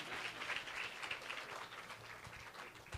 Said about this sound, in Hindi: Give a big clap to the Lord Jesus.